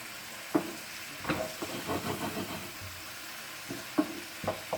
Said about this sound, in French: Je laisse mijoter.